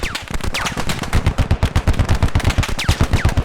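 Sustained machine gun fire in a battlefield war video game, rapid rhythmic bursts of loud close gunshots with occasional ricochet whines.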